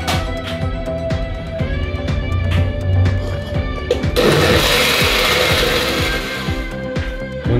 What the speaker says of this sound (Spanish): Ya con esto vamos a licuarlo.